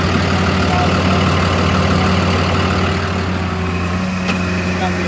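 A 2019 Freightliner M2 knuckleboom tire service truck runs at high idle to drive its hydraulics, a loud, steady diesel drone with a strong low hum that stays constant and close throughout.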